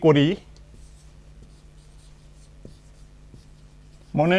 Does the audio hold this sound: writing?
yes